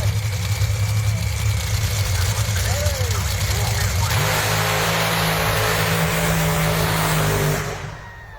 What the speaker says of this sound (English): This is none other than Rochelle Splatt, top fueler at Townsville